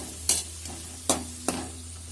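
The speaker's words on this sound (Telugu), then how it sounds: "వేసేసి ఒకేసారి రోస్ట్ చేసుకుంటున్నా" Vegetables for sweet corn pulao roast in a pan, a low steady sizzle with three sharp scraping strokes of a spoon against the pan, close and alone.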